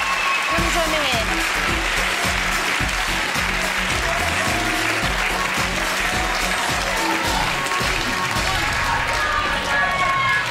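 A studio audience on a TV pop talent show gives loud applause for two girls, a roaring wall of clapping and cheering with heavy thumping music pulsing underneath, sustained for the whole stretch.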